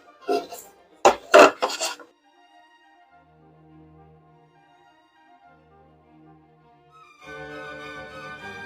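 A knife scrapes and saws through the thin metal wall of a coffee can, cutting out a face: a burst of harsh scraping strokes, then quiet near silence, then a steady ringing metallic rasp toward the end.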